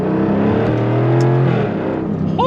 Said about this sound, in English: It is just all exhaust note, and it sounds so good.